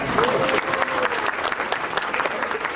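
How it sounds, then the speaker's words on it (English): Sustained audience applause at a temple annual-day graduation ceremony, dense clapping with distinct individual claps, loud and continuous throughout. "let's get started with an applause."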